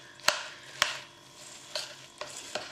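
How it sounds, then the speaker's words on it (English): Melted chocolate, marshmallows and biscuit pieces are stirred in a saucepan, giving five soft scraping and clinking strokes spaced irregularly over a quiet background. "stir it around"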